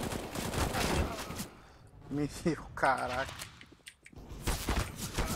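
Bursts of gunfire in a shooting video game, rapid automatic shots at the start and again at the end, loud and close, with a player talking excitedly in the quieter middle stretch.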